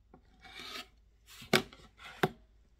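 A quilt fabric block is trimmed along one side with a rough, rasping cut, closing with two sharp clacks that stand out clearly in a quiet room.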